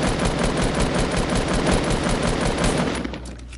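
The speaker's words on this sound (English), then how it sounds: "Oh, I just got sniped." Rapid, continuous automatic gunfire in a video game shooter, loud and dense throughout, tailing off at the very end.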